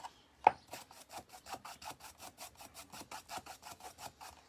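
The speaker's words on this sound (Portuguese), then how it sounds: "deixa eu passar a lixa aqui em cima, pra desgastar aqui em cima" A piece of MDF being hand-sanded with sandpaper to wear down the top for an aged finish, with about twenty even, rhythmic rasping strokes after a sharp tap, close and quiet, no speech.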